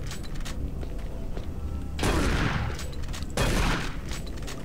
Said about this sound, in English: Let me see how a shotgun deals with your ass.